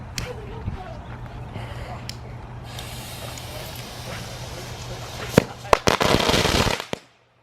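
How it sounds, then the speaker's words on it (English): Happy bomb fireworks go off outdoors at a backyard firework show: a few sharp, loud cracks and bursts with hissing crackle, standing out over a steady background hum and faint voices. "Alright, so Cameron's lighting another happy bomb"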